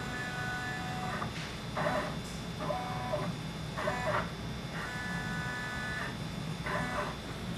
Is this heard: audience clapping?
no